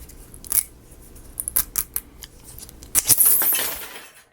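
Coiled spring mechanism of a Wood Trick Liberty Eagle wooden model kit being released, with scattered sharp clicks and rattles building to a bright, loud metallic burst of rustling clatter near the end, close by.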